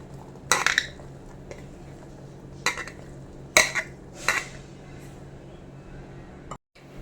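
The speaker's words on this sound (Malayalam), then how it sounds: "ഞാനൊരു മൺചട്ടിയാണ് എടുത്തിട്ടുള്ളത്" Several sharp clattering knocks as chopped cucumber pieces are dropped into a clay pot, in scattered bursts with quiet pauses between.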